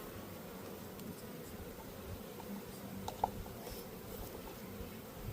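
Honey bees buzzing in a steady, continuous low drone during a mite treatment, a dense swarm humming close by with no voices.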